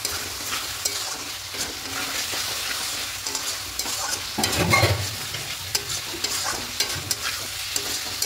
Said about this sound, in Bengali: এবার খুব ভালো করে একটু কষিয়ে নেবে সব কিছু।